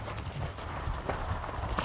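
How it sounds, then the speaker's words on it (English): A Tennessee Walking Horse with keg shoes on all four feet gaits along with a quick, even rhythm of soft hoof clops, faint and close, with no talk. "This is just one horse that just has a nice gait, but he tends to be slower than most."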